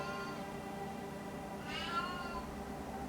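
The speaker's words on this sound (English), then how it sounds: "oh, the cat's meowing." A single faint cat meow rises and falls briefly against quiet room noise, heard from a little distance.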